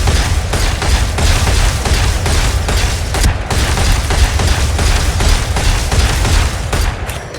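Rapid gunfire in a Valorant shooting range warm-up, a dense, continuous stream of loud shots in quick bursts with a brief pause around the middle, close and punchy, no talking.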